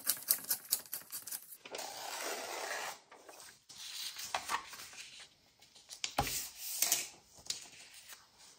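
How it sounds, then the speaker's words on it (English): Paper edges are torn away from an image for a junk journal, giving close, dry ripping and rubbing sounds in uneven strokes, fairly quiet, with a few sharper tearing bursts. "So I think I'm just going to tear away the edges."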